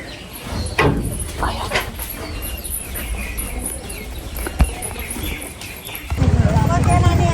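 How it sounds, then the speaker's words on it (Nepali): Steady hoof clip-clop of a horse being ridden across a stream, with outdoor ambience and occasional voices, then a louder rushing sound of flowing water near the end. "मम्मी चाहिँ यहाँनिर खोलामा घोडा चढाउनु हुँदैछ"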